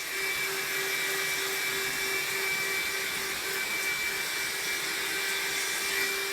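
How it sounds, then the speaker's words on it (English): A heat gun blows steadily on a painted Mazda Miata center console, a constant whooshing fan roar with a high whine, unbroken and fairly close for several seconds, no voices. "Then we're going to hit it with our heat gun."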